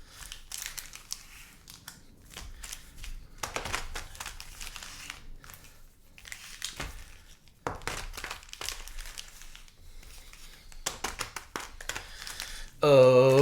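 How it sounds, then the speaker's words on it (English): Repeated bursts of Dominaria Remastered trading cards being riffled and shuffled close by during a box break, separated by brief pauses, with a louder tonal sound at the very end. "We'll do a few shuffles in here."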